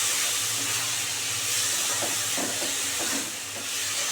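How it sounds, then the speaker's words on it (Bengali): Onion, garlic, ginger, green chili and tomato masala sizzles steadily in a hot oiled pan, a continuous close hiss with faint scattered pops and clicks, no voices. "এবার এটাকে দিয়ে ভালো করে কষাতে হবে"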